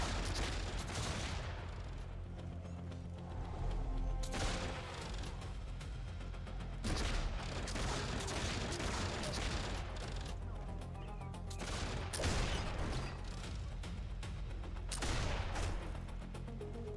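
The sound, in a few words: gun turret gunfire in the video game Warhammer Online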